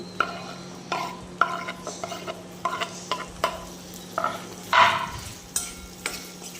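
Cut okra being stirred into masala in a pan for a kids' lunchbox dish, a spoon scraping in steady, repeated strokes roughly every half second over a low sizzle, close and clear with no talk.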